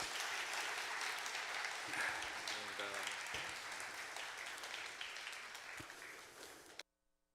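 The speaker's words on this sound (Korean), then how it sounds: "우리 큰 박수로 축복해 주시기 바랍니다." A church congregation at a Korean Sunday service in Seattle claps in a broad, steady round of applause after a prayer of blessing, fading slightly before cutting off abruptly near the end.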